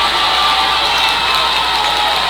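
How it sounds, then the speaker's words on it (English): A basketball crowd stands and roars for defense during a college game, a loud and continuous wash of cheering and shouting with no break. "Crowd gets on their feet, imploring, asking for defense."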